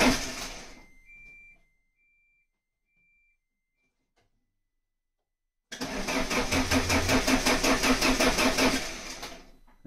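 A car engine at a rally setting bursts into a loud, steady running roar after a brief sputter and several seconds of near silence, continuing strongly and close by to the end with no talk.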